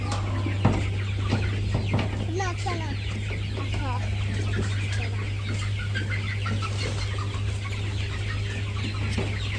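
Several chickens cluck in short, overlapping bursts nearby over a steady low mechanical hum, with faint voices now and then.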